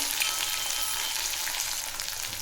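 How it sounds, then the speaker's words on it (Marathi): Garlic greens and coriander paste frying in oil with cumin for bhogi bhaji, a dense, loud, continuous sizzle that stays even throughout with no pauses or voices. "याला दोन दोन मिनिट तेलात फ्राय होऊ द्यायचं आहे"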